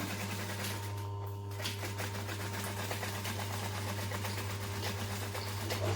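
Sewing machine stitching a tote bag, a steady mechanical hum and whir running continuously at an even pace, fairly quiet and close, with no talking.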